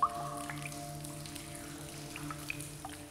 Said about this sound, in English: Drip by drip, sculptures are formed.